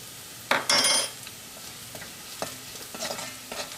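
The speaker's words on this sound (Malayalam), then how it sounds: "അപ്പോൾ മഞ്ഞൾപ്പൊടിയും വെളിച്ചെണ്ണയിൽ കിടന്ന് നന്നായിട്ട് മുരിഞ്ഞിട്ടുണ്ട്" Turmeric powder fries in coconut oil with shallots, garlic and ginger in a pan. A spoon stirs it with soft scrapes and knocks over a faint, steady sizzle, heard close and without voices.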